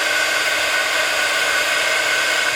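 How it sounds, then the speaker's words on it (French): A brand-new heat gun used for embossing blows steadily at close range, a loud continuous airy whoosh with a faint whine, running alone without pause. "Il est puissant mon heat gun quand même, il est tout neuf"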